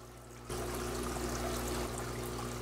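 Water pours into a native fish aquarium during a refill, a soft steady trickling stream that starts abruptly after a brief quiet moment and carries on evenly at low volume, with no talking.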